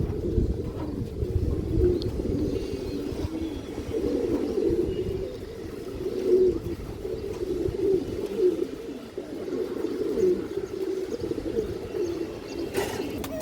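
Silver Beji pigeons, a pair kept for flying, coo steadily in a loft, a continuous low rolling murmur of several birds at moderate distance with no voices.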